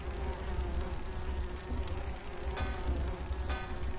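Swarm of bees buzzing in the Grim Fandango video game, a steady, fairly loud droning hum that fills the whole moment, with a few faint higher clicks over it and no talk.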